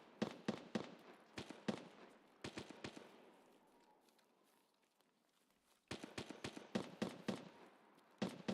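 Rapid clusters of gunshots from a player's gun in Escape from Tarkov PvE crack in quick bursts, sharp and somewhat distant, separated by a quiet gap before another volley of shots.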